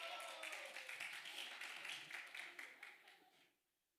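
Clapping from a high school church group for a latecomer, a quick burst of many hands that carries on steadily, then trails off and stops near the end, with faint voices underneath.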